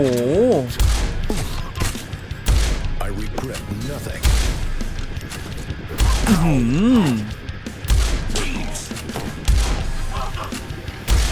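Enemy gunfire in the video game Postal Brain Damaged, with repeated heavy shots and thuds in loud bursts, mixed with music and a speaking voice.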